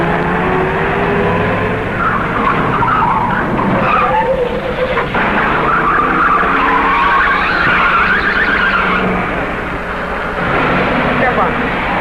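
Tires skid and squeal loudly through a 1936 radio-drama car chase, a sustained screeching roar with shifting pitch over a running engine, filling the whole stretch without pause.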